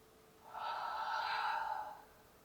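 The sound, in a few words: breathing out during a chair yoga exercise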